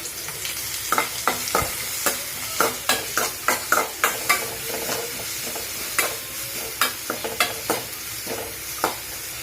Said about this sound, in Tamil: கடுகு பொரிஞ்சிருச்சு, நம்ம வெங்காயம் போட்டுக்கலாம்.